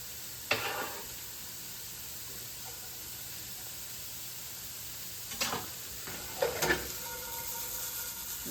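Onion going into hot grease in a pan for a pasta sauce, a soft steady sizzle and hiss broken by a few brief bursts of stirring, close and fairly quiet with no talk.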